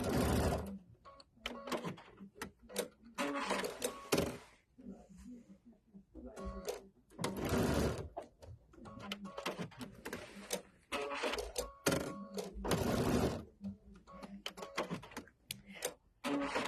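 A sewing machine stitching a belt bag runs in repeated bursts of rapid mechanical whirring, starting and stopping several times, close and clear with brief pauses between runs.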